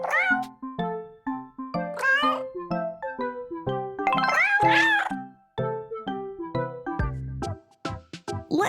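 A cartoon cat in a cat care video game meows repeatedly in short, clear, high calls over bouncy, chiming game music.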